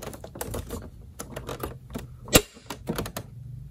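A dual monitor desk mount arm clicks into place with a flurry of small plastic clicks and taps and one sharper snap partway through, all close and fairly quiet.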